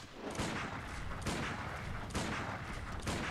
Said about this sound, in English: So you know that guy's been shooting at us?